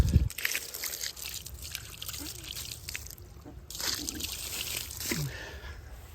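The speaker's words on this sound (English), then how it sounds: "I'm going to rinse it off with a bucket of water now." Water from a bucket poured over an old tombstone during cleaning, a continuous splashing, trickling wash outdoors, fairly close and steady throughout with brief surges.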